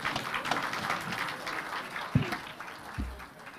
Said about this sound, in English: let us give the two party leaders a hand of applause